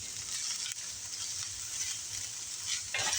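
Food sizzles steadily in hot olive oil in a ceramic-coated cast iron pan as it is stirred, a close, even frying hiss with a few scraping movements near the end.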